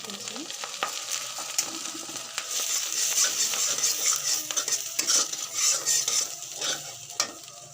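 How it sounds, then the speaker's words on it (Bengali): Chopped tomato and chili hitting hot oil for a spicy pasta, a bright crackling sizzle that swells and stays busy while a utensil stirs and taps against the pan, close and without talk. "এরপরে আমি এটাতে টমেটো কুচি আর ঝাল কুচিটা দিয়ে দিব"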